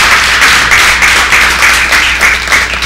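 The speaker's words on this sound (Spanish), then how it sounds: "Dale un aplauso al Señor." Church congregation applauding during a Spanish-language sermon, a dense, steady wash of many hands clapping close and loud throughout, with no pauses.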